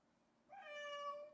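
A cat meows from inside an enclosed space, a single drawn-out, close cry that rises sharply and holds for most of a second against a quiet background.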